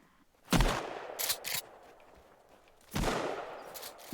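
Shotgun blasts in the survival video game Sons of the Forest: two loud, sharp booming shots about two and a half seconds apart, with a couple of quicker cracks between them and no talking.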